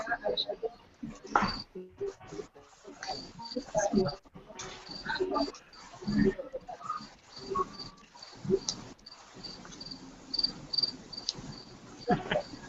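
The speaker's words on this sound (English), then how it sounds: "I can hear the crickets." Crickets chirp steadily in the background, a continuous high trill running under intermittent nearby talking and bumps.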